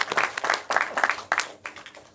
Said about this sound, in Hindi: एक बार तालियां तो बजाया।